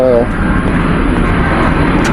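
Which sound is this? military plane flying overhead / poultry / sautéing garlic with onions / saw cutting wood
military plane flying overhead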